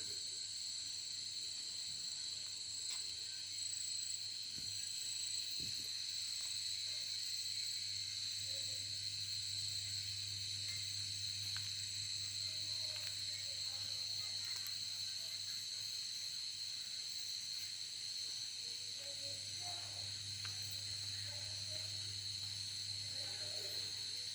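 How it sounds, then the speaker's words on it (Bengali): Crickets and other insects call steadily at night in the jungle near the Ajodha hill youth hostel, a thin continuous shrill chorus under a low hum with no one speaking. "ঝিঝি পোকার ডাক, নানা রকম কীটপতঙ্গের ডাক শুনুন।"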